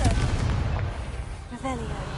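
The Confringo blasting spell from a Harry Potter video game, a loud, rumbling explosion with a heavy low boom that decays over about a second, followed by a sharper burst and game sound effects. A voice speaks over it.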